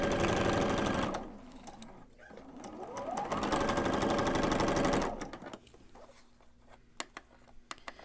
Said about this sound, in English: start sewing things together